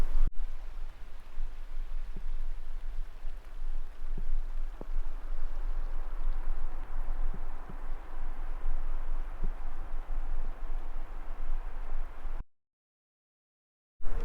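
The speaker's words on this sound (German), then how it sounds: "Es ist zum Glück gar nicht so kalt und regnet nur ganz leicht." Light rain in the Greenland wilderness, a soft steady hiss with occasional faint drop ticks, continuous and gentle before cutting to silence near the end.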